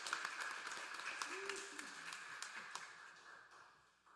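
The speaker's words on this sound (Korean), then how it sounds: "박수로 우리 환영합시다." A church congregation applauds to welcome a family during an Easter service, steady dense clapping filling the room for about four seconds before tapering off, with faint voices underneath.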